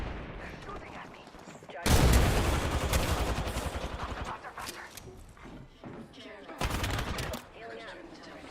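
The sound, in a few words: gunfire in a video game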